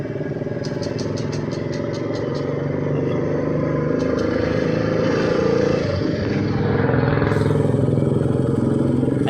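A motorcycle engine fires up and revs, a loud close steady roar that swells and climbs in pitch toward the end, with a light metallic ticking early on.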